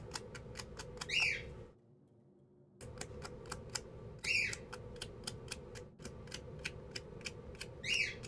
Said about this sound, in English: And yes, the birds are out.